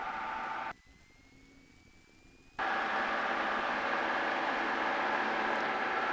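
Small propeller airplane, aircraft 8081L, its engine running with a steady broadband drone and whine heard from inside the cockpit, briefly dipping in level before returning loud and constant.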